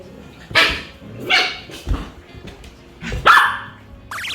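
Several sharp, high-pitched Samoyed puppy barks and yips come in quick bursts, close by and fairly loud, with short pauses in between.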